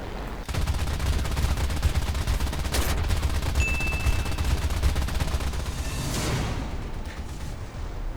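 Aircraft gunfire in the War Thunder video game: a dense, continuous roar of rapid machine-gun bursts blended with engine noise, loud and unbroken throughout.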